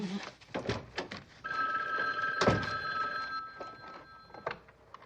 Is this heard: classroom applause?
no